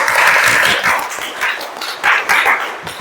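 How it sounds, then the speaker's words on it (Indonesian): A classroom of students claps together in short bursts, loud and close, rising and falling in uneven waves over about three seconds. "Berikan tepuk tangan untuk kita semua."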